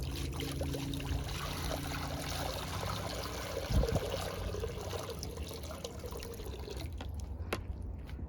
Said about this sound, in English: let the water flow